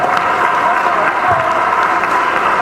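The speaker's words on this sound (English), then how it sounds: "a round of applause to our teachers" An audience at a panel session applauds the teachers, a dense, loud, continuous clapping that fills the room.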